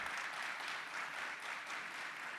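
Audience applause at a TEDx Peace event in Halabja, a steady continuous clapping from a crowd lasting throughout, moderately distant and even in level.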